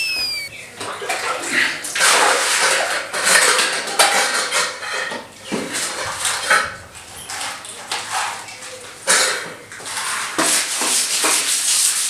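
Dishes, pots and pans being scrubbed and washed in a rural Indian household, with continuous rough scouring, splashing water and metal clatter, close and loud with short pauses.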